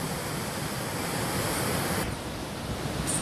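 Roaring spray of the Dhuandhar waterfall on the Narmada river, a steady, loud broadband rush of falling water that fills the whole stretch without a break.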